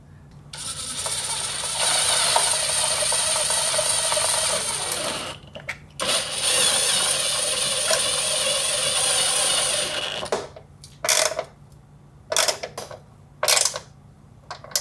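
Ratchet wrench with a 10mm socket loosening OEM fender bolts in a Nissan GTR engine bay: two long stretches of steady ratcheting, then several short, sharp clicking bursts, close and fairly loud with no talk.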